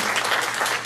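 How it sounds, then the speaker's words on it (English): A brief burst of full, dense audience applause at a medical conference talk on pseudo-dementias, loud and continuous throughout. "I just want to give him a round of applause for what a great job"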